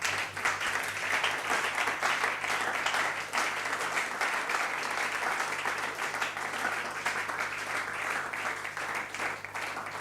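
Church congregation applauding on the last Sunday of 2020, continuous dense clapping from many hands, steady and lively for the whole stretch with no break.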